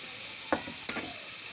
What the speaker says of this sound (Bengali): ভালো করে মশলাটা ভাজা ভাজা করে নেব।